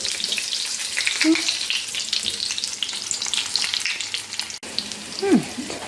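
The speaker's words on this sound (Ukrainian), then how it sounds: "Швиденько вони смажаться." Close, steady sizzle of food frying in oil, with soft crackles and brief scrapes from stirring; a faint voice murmurs briefly.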